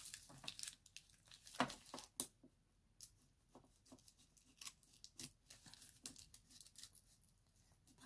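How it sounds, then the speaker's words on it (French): Basic paper being cut with scissors for a junk journal, a run of soft, close snips and rustles with brief sharper crunches, quiet and without talk. "je viens découper"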